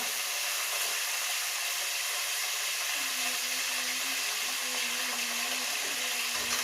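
Curry leaves with their stems hiss and sizzle steadily in hot tempering oil, a dense, close, continuous crackle with no voices over it.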